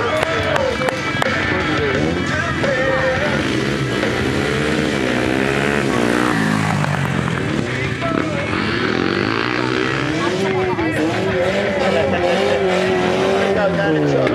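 Stunt cars driven on two wheels at an outdoor stunt show, engines revving and droning loudly throughout, rising and falling with tyre noise, under a continuous amplified announcer's voice.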